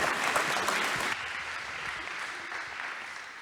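Audience applause at a French coastal innovation event, a dense steady clapping from a room full of people that stays loud, then eases slightly after the first second and carries on evenly to the end.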